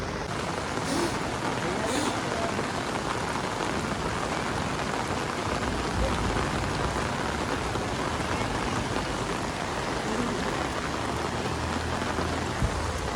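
Heavy monsoon rain pours over Sedarda village during a thunderstorm, a dense, continuous roar of drops on surfaces lasting the whole stretch. Voices are faintly audible beneath it.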